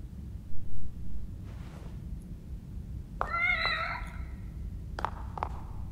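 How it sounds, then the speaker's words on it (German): A cat in the game The Evil Within: The Assignment lets out a single drawn-out meow midway, between a few soft thumps and sharp clicks, over a low droning ambient background. "Die Katze."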